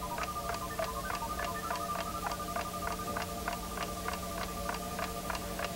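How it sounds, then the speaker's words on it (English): An alarm clock ticking as heard through a cardboard listening tube, a steady run of sharp, evenly spaced ticks, about three per second, over a low constant hum. "The ticking of the alarm clock is travelling down one tube, bouncing off the cardboard, straight into the listening tube"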